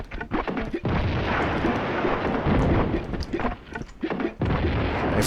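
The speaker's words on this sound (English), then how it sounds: "Let's see if the grenade launcher works." In the Tomb Raider II prototype, the grenade launcher fires a run of heavy, booming blasts in close succession, each a dense burst of noise that fades between shots.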